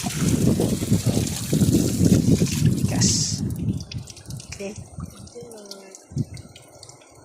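Strong flowing water rushes steadily at close range for several seconds, then fades into a quieter scene where a voice speaks briefly.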